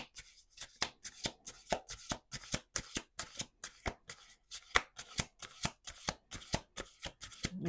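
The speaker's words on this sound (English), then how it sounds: "Let's do two more shuffles." Tarot cards are shuffled by hand in a fast run of sharp, rhythmic riffling slaps, around two or three per second, close and crisp, with no talking over them.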